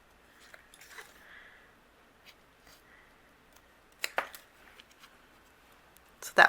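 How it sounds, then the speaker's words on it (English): Scissors fussy cutting a paper flower for a handmade card, with quiet scattered snips and paper rustles, and a few sharper, louder cuts near the end, close by with no talk. "I'm going to fussy cut this flower out here, just using my scissors."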